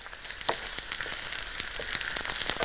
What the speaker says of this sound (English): Mmm, the sizzling now.